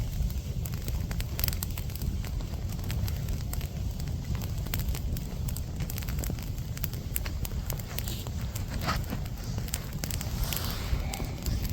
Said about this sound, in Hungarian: Íme egy gyufás tűz